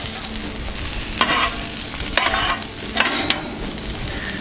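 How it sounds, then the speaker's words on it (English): Sausage and bacon are stirred and scraped in a skillet on a Blackstone flat top griddle, giving a steady sizzle broken by a few sharp scraping strokes. "get this sausage and bacon, mix it up nicely together"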